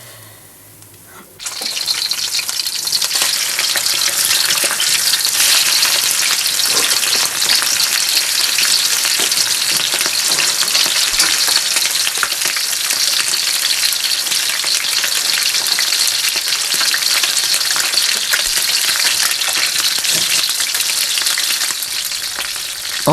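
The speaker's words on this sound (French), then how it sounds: "Mademoiselle Adèle a choisi de faire frire ses morceaux de poulet dans de l'huile." Loud, dense sizzle of chicken pieces frying in oil in a copper pan, starting abruptly after a brief quiet moment and then crackling steadily and close for the rest of the time.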